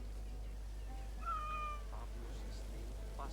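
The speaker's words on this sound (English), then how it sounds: "There's the kitty." A cat meows in the video game Assassin's Creed Origins, a couple of drawn-out mews in the middle, fairly faint over a steady low hum and quiet background.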